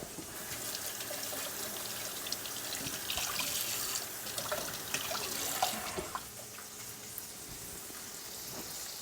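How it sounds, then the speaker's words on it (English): Tap water runs steadily into a sink while garlic chives are rinsed, a soft continuous splash with small irregular spatters as the stalks move under the stream, with no voices. "Now I need to cut these garlic chives, and I need to give them a little wash."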